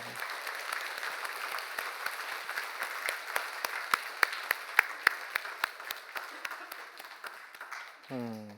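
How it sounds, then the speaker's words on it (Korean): A church congregation gathered for an anniversary worship service applauds, dense steady clapping with a few sharper near claps, fading out at the end as a brief tonal sound begins. "주변에 있는 분들을 축하하며 박수 한번 하면 좋겠어요"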